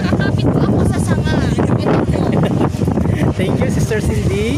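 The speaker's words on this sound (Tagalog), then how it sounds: "At parang matatangay na po ako sa lakas ng hangin." Strong wind buffets the microphone in a constant roar, with a voice speaking underneath the gusts while holding onto a tree branch.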